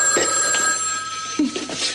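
A telephone bell rings steadily in an indoor scene, a continuous bright electronic trill with faint rustling movement beneath it and no talking.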